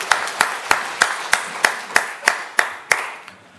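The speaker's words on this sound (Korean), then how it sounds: "하나님께 영광의 박수를 보내겠습니다" A church congregation claps in a slow, regular unison rhythm, about a dozen sharp, evenly spaced beats ringing in a reverberant room, with no talking over them.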